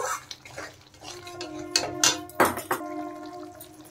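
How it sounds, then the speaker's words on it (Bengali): Sour curd going into spice masala frying in a pan for a paneer dalna, heard as sharp clanks of a utensil and a wet splash over a faint sizzle, no speech. "এখন আমি এর মধ্যে দিয়ে দেব টক দই।"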